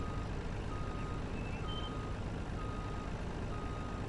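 A vehicle in Farming Simulator 19 gives a steady series of faint, evenly spaced reversing beeps over a continuous low engine rumble. No one speaks.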